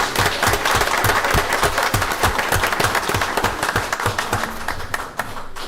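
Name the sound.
applause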